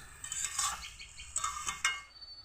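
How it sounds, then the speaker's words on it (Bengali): Bottle gourd shukto being stirred in a pot with salt added, giving several close, clinking scrapes of a utensil against the pot over a soft background, with no talking. "ভালোভাবে একটু নেড়ে চেড়ে দিব।"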